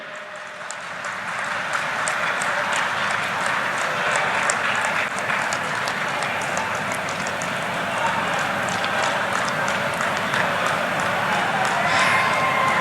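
Sustained applause from a large crowd at an outdoor public rally in Bilaspur, Chhattisgarh, many hands clapping in a dense, continuous roar that holds steady for the whole stretch.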